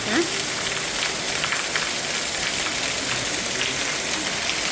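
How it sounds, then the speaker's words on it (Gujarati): Heavy monsoon rain pours down in a dense, continuous hiss that fills the whole stretch, loud and close, with a faint voice briefly audible beneath it. "કેવો વરસાદ આવે બોલ."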